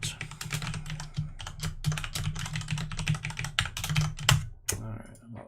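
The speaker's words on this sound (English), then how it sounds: "I apologize if my mechanical keyboard is loud" Rapid, loud clatter of keys on a mechanical keyboard, near and continuous in uneven bursts, with a brief pause near the end, during a live game-development stream; a low hum sits underneath.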